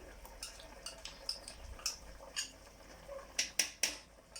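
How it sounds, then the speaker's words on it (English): A spoon stirs a thick lamb stew in a pot, a few soft scrapes and light clinks against the pot side, close and fairly quiet, with a low background hum. "I'm just going to stir that a bit"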